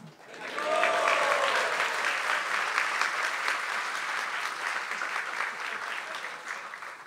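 Sustained crowd applause at a spiritual festival in India, swelling quickly and holding steady as a dense, even clapping that tapers slightly toward the end, with a voice briefly audible at the start.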